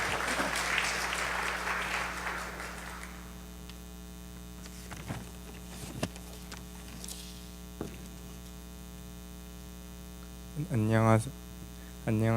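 An audience applauds at a church gathering to welcome a young man coming up to give his testimony. The burst of clapping fills the first few seconds and then fades out over a steady electrical hum, followed by a few scattered knocks.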